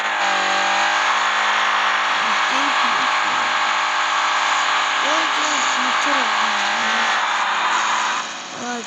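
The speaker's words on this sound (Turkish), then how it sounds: "Drift modumuza giriyoruz. Biz gazıyla gireceğiz." Game car drifting under throttle, a loud sustained high engine whine that wavers and holds throughout, while someone talks over it in short bursts.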